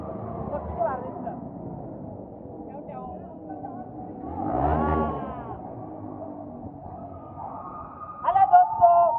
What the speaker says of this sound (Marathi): आता घाट ओलांडताना हा भुयारी मार्ग आहे आणि इथे आवाज कसा येतो हा तुम्हीच बघा